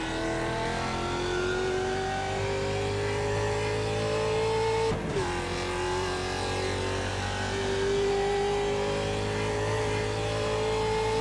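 A Ford Mustang race car in a racing game holds a steady, droning engine note, its pitch easing down then climbing again after a short click midway, loud and continuous with no talk.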